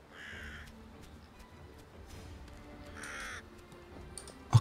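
Crows caw in two clear rounds of harsh calls in the Vikings: Wolves of Midgard video game, with a faint game background and a sharp thud at the end, no talking.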